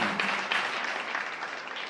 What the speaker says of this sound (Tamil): கைத்தட்டி கர்த்தரை மகிமைப்படுத்துங்க